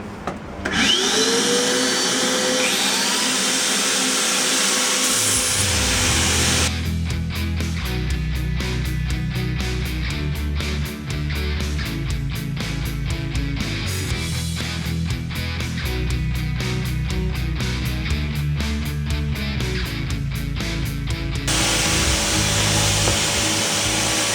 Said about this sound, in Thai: เราขัด ให้ฝุ่น มันพุ่งเข้ากล่องนะครับ แล้วเราก็จะใช้เครื่องดูดฝุ่นดูดเอานะครับ